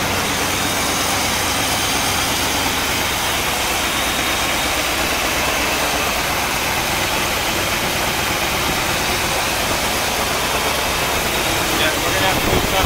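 A 1964 Cadillac engine idles steadily with a rough, constant rumble and some exhaust noise from a possible exhaust leak, loud and close, without pause for the whole stretch.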